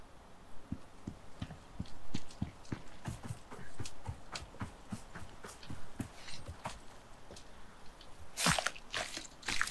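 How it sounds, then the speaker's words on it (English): Hooves of a terror horse in the video game Icarus thud in a quick, uneven rhythm of clip-clops, fairly close, ending in a few louder scuffing bursts, with no talk. "There's a terror horse."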